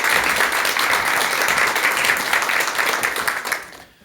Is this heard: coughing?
no